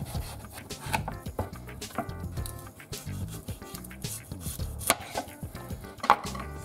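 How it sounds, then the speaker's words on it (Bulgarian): A knife chops through a slab of pork fat (slanina) on a cutting board in rapid, irregular strokes, close and crisp, with no talking. "Сега нарязваме още веднъж, да не е толкова голямо парчето."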